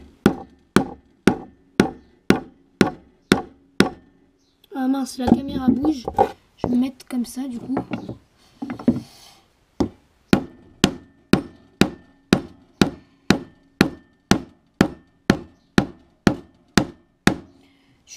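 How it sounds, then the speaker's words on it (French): A hammer strikes a wooden stick in a steady run of sharp, evenly spaced knocks. The blows stop while someone speaks softly, then resume at the same brisk pace. "Je vais essayer de prendre un marteau un peu plus gros parce que celui-là est un peu petit."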